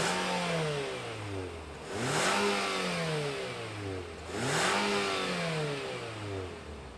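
A 2023 Nissan Altima SL sedan engine revs up loudly twice, each rise in pitch settling back toward a steady idle, heard close with no talking.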